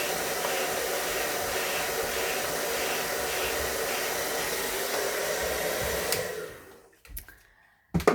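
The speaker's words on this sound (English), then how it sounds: "it's going to dry the fringe with a slight bend in it" A hair dryer blows a steady, close, loud rush of air while drying a fringe, then is switched off near the end, leaving a few faint handling knocks.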